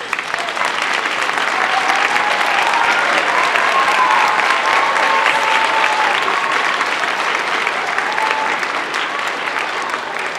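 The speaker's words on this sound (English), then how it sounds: "we all give them a big round of applause" Sustained, loud applause from a school audience at an elementary school renaming ceremony, dense steady clapping filling the whole stretch with faint crowd murmur beneath.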